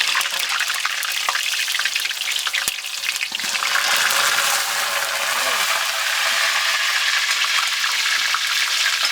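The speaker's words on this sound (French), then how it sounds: "Je mets les pommes de terre. C'est frire les pommes de terre." Potatoes fry in hot oil for a lamb biryani, giving a loud, steady close-up sizzle with a brief knock and some stirring, and no speech.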